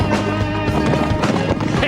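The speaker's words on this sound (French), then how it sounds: "regarde comment ça court un vrai cheval!" A horse runs at a gallop, with dense, rapid hoofbeats thudding over a busy, loud background of noise and other sounds. No words are spoken.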